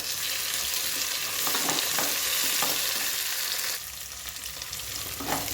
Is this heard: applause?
no